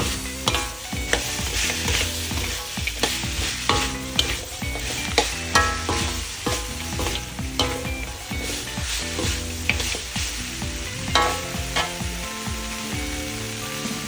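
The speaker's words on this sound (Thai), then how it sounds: "คนคลุกข้าวให้เข้ากันนะครับ กับเครื่องแกง" Blanched pork ribs stirred with curry paste in a pan: steady sizzling and frying with repeated scraping and stirring strokes throughout, close and moderately loud, no talking.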